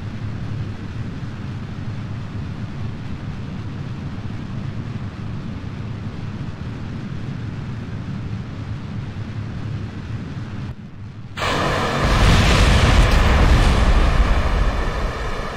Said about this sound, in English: I expect an explosion.